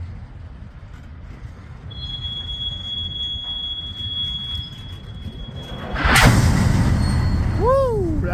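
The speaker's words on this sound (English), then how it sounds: "the eastbound train" An eastbound train passes close by, with rumbling wheels building to a loud burst and high metallic wheel squeals rising and falling near the end, along with a steady high tone.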